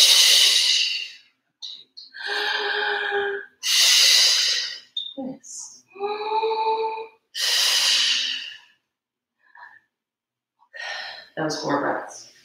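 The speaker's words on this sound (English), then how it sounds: "That was four breaths." Deep breathing during a home Pilates stretch, with loud, close inhales and exhales, some hissy and some voiced like sighs or groans, in separate bursts with short pauses between them.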